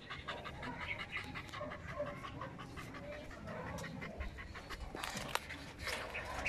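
A 4-month-old Belgian Malinois puppy panting close by in quick, steady rhythmic breaths, fairly soft and continuous.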